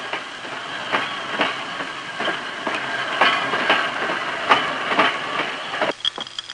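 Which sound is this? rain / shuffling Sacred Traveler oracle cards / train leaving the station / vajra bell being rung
train leaving the station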